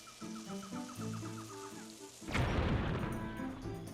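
Kikwi creatures in Zelda: Skyward Sword give rhythmic clucking, chirping calls over game music, then a sudden loud booming burst takes over midway.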